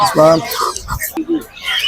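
Chickens clucking and squawking at a duck and chicken market in Fatullah, Narayanganj, a few close calls mixed with someone talking nearby.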